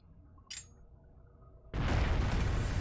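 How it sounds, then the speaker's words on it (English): A bomb goes off in the Trails of Cold Steel video game. A quiet stretch with one brief high chirp gives way to a sudden, loud, sustained roaring blast that fills the rest of the moment. "What? A bomb?"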